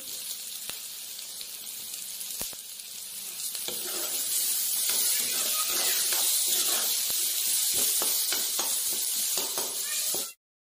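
Ginger and garlic sizzle loudly in a hot pan, a steady frying hiss that swells after a few seconds, with faint stirring scrapes and taps, then stops abruptly.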